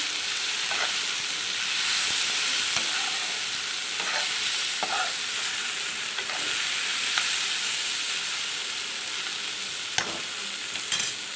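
Ridge gourd peel sautéing in a pan, a loud, continuous hissing sizzle with occasional clicks and scrapes as it is stirred now and then, close up and with no voices.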